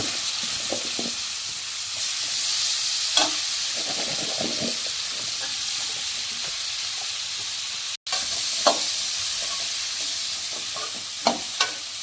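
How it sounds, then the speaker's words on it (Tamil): Amla gooseberries sautéing in oil for pickle, a constant broad hissing sizzle that runs almost unbroken, with occasional spoon knocks and scrapes against the pan, close by. "நல்லா எண்ணெயில் போட்டு நல்லா வணக்கி எடுக்கலாம்."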